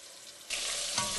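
Braised-style short ribs searing in a hot pan, a steady close sizzle that jumps louder halfway through as the meat hits or shifts in the oil.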